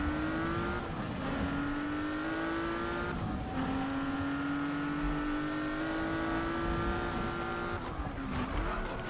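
A car engine in the Need for Speed video game runs steadily at high revs, droning loud and close, with several gear shifts causing brief pitch drops before it climbs again.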